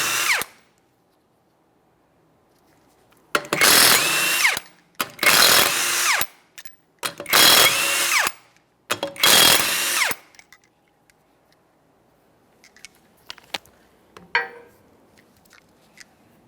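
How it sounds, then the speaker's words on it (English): A power tool spins off the 21mm lug nuts on a rear wheel of a 2014-2019 Toyota Corolla, with four loud, close bursts of whirring separated by short pauses, then a few faint clicks and knocks. "you're going to remove all 5 of your 21mm lug nuts, and we can get the wheel off of here."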